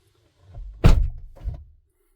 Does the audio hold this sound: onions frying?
no